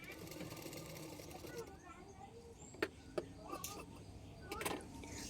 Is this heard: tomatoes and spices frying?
no